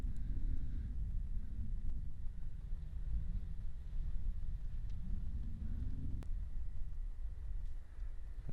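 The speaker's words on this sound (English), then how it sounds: "you can just hear the wind whipping" Wind gusts across an open disc golf course in a steady, low roaring rush, buffeting the microphone in waves with no voices.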